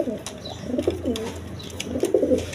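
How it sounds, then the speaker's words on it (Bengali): Big, colour-breed pigeons on a pigeon farm coo repeatedly up close, several overlapping low throaty calls with occasional chirps, fairly loud and without talk. "দেখেন একদম কোয়ালিটি সম্পন্ন কবুতর"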